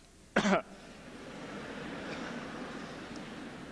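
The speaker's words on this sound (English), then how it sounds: "I'd like to start by urging everyone to have a good cough" A single short cough rings out in a quiet hall during a Saint John's University commencement in 2001, followed by a faint, low murmur of the room.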